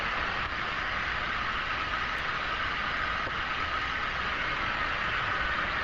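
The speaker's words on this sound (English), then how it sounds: "The sound that you hear is obviously the engines of the plane." Airplane engines roar steadily inside the cabin during a weightlessness parabolic flight, a dense, unbroken broadband drone that stays loud and even from start to finish with no voices.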